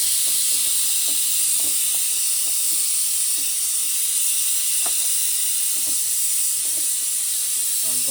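Ginger and garlic frying in oil in a home kitchen pot give off a steady, bright sizzle and hiss that runs unbroken throughout, with a few faint clicks and taps underneath.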